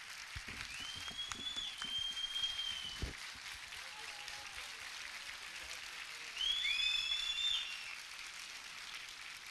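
An audience in a hall at a Teachers' Day celebration applauds music teachers, with a dense, fairly faint crackle of clapping that swells briefly near the end, while thin whistling tones drift over it.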